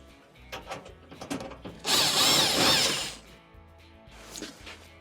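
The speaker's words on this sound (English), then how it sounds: "Remove the 2 Phillips screws." A powered screwdriver backs Phillips machine-thread screws out of a clothes dryer's front panel in a short, loud whirring burst of about a second, surrounded by quieter metallic clicks and handling noises.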